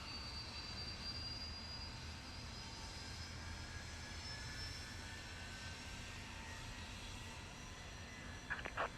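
A steady jet engine roar from an MD-83 airliner spooling up during start holds throughout, broad and continuous with high whining tones, close by, with a brief clatter near the end.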